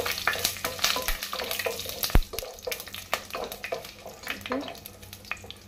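Whole cloves and other spices fry in oil for chicken sukkha, a close crackling sizzle with a quick run of spoon scrapes and clicks and one sharp knock against the pan.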